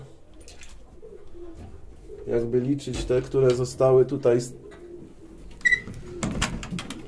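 Pigeons in a loft coo softly in the background while someone talks over them, with a few brief bird sounds between his words.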